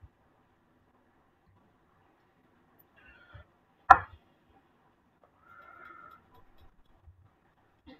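A single sharp knife chop through a vegetable on a cutting board, one crisp close impact standing alone in a quiet kitchen, followed by faint rustling.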